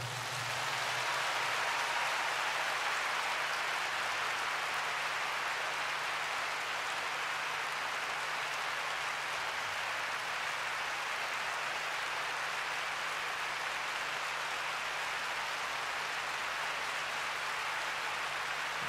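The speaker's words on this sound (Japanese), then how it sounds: "メンバーにも拍手を。" Audience applause for the band members at a dome concert, a dense, even wash of clapping from a large crowd that holds at a steady moderate level without pause.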